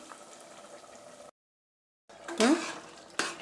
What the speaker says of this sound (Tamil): ஸோ இது நல்லாவே கலந்து விட்டுக்கலாம் கொஞ்சம் தாளித்து நம்ம இந்த வாழைத்தண்டில் நம்ம இதை சேர்த்துடலாம்